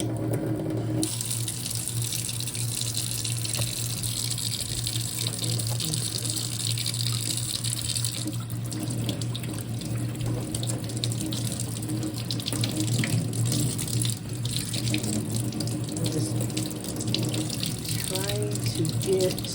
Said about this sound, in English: Let me just start it on warm water.